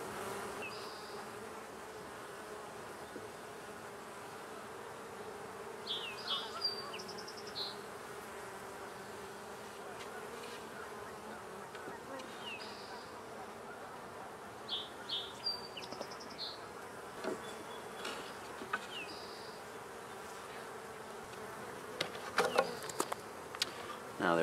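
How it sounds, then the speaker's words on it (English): Honey bees buzz steadily around an open hive box during an inspection outdoors, a continuous close drone with brief louder passes of individual bees near the microphone and no talking. "Now there are several bees left in the box here that don't really know where to go."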